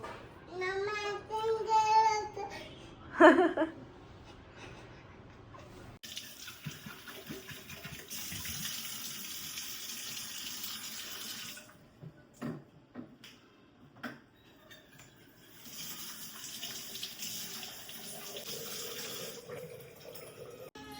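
A running faucet at a sink while a toddler plays in the water, with steady gushing across much of the stretch; a voice and an adult talking come early, then only faint movement sounds between the bursts of flow.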